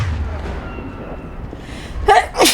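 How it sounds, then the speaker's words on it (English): A person's sneeze bursts out near the end, loud and close after a quiet stretch with faint game noise beneath, followed by a second sharp breathy burst. "Oh, I gotta sneeze."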